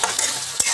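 Potatoes stirred and sautéed in a pan for sabudana khichdi, a brief close scraping swish over a soft sizzle with two quick stir strokes.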